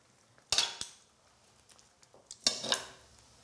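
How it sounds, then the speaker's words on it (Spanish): Chicken pieces set back into a frying pan over lowered heat for a Latin-style Pollo Veracruz, giving two clattering knocks of pan and utensil with a soft sizzle trailing after, close by and with no voices. "volvemos a meter el pollo"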